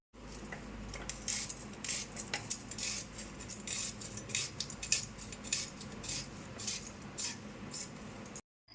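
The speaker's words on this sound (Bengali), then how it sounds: "আর এই দিকে আমি পেঁয়াজগুলো কেটে নিচ্ছি" A knife slicing onions on a cutting board in a home kitchen: rapid, repeated crisp chopping taps in an irregular rhythm, close and clear, without talk, ending abruptly.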